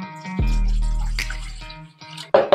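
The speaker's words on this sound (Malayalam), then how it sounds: "കുറച്ച് വെള്ളം ഒഴിച്ചു കൊടുക്കാം" Water pours into a metal idli steamer pot, a close, ringing gush that slowly fades over about a second and a half, followed by a quick metallic clink.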